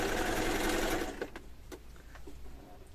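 A sewing machine stitches across the end of a piece of scrap fabric, running as a dense, steady mechanical whir for about a second before stopping, followed by a few faint clicks and handling noises.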